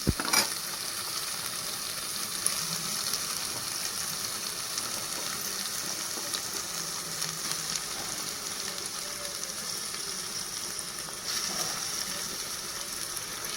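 Onions fry steadily in oil in a pot for fish curry, a continuous broadband sizzle that holds at an even level throughout, with a few faint clinks and no voices.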